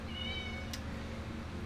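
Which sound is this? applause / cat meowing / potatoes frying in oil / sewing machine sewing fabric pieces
cat meowing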